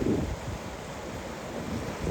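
Water pours steadily out of a field drainage dike near the River Witham in Lincolnshire farmland, a constant broadband rush mixed with outdoor wind buffeting on the microphone, with no talking.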